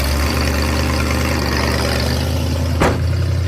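A Ford Maverick engine idles steadily after starting, just after vacuum leak and idle mixture screw fixes, with a slight exhaust leak, a loud, close, low rumble with a brief revving surge near the end.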